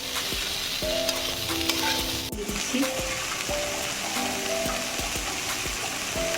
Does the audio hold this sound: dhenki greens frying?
yes